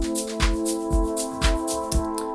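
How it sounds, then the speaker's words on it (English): A vocoder in Ableton Live running on a noise carrier gives a steady buzzy, breathy chordal drone, with soft hissing pulses recurring about every half second and no voices. "it's currently set to noise, which makes it sound like this."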